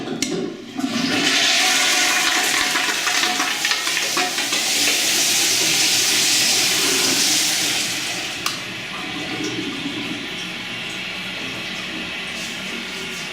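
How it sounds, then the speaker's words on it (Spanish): A toilet in a motel bathroom flushes with a loud, close rush of water that holds steady for several seconds, then drops to a quieter gurgling refill. "La descarga de agua en el baño es sorprendente."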